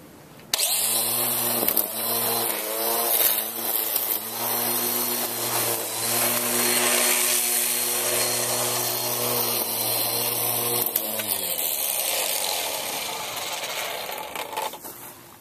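Lawn string trimmer cutting grass, a loud, steady high motor whine with a buzzing line whir that holds for about ten seconds and then winds down, with no talk.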